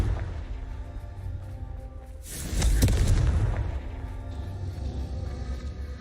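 A Confringo fire spell in the video game Hogwarts Legacy sets off a deep booming blast midway through, rumbling over steady game ambience with faint crackles.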